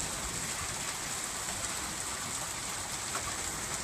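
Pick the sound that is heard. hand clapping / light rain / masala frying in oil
light rain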